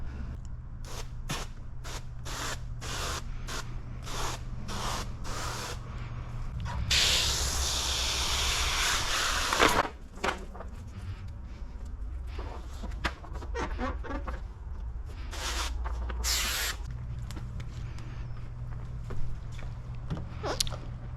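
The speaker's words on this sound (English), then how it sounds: "Let's go ahead and put a mist on this" Spray bottle misting the rocker panel of a 2025 Chevrolet Corvette E-Ray for paint protection film installation, giving a long, steady close hiss of spray amid rapid trigger pumps and clicks.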